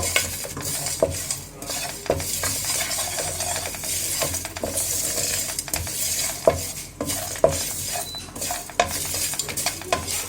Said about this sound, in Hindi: फ्लेम को स्लो ही रखना है, ज़्यादा तेज़ नहीं कि मसाला जल ना पाए, बस खुशबू आ जाए, इतना सा हमने इसको रोस्ट करना है